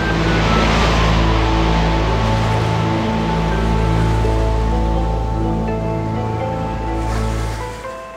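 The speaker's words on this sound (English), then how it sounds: "sometimes the waves are angry and rough and stormy, rising up high and crashing down low" Rough sea surf roars steadily and loudly, washing in a broad rush, while a sustained musical tone sits underneath.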